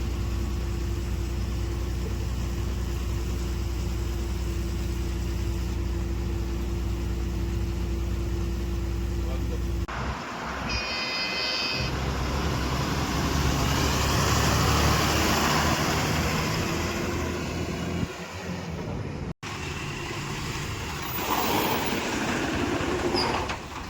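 A BS3 tipper truck loaded with sand crawls along slowly, its engine a loud, steady drone with rumbling and rattling, and a voice talks over it at times.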